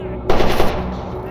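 A short, loud burst of enemy automatic gunfire in the game S.T.A.L.K.E.R. Anomaly, several quick shots in a row, then fading.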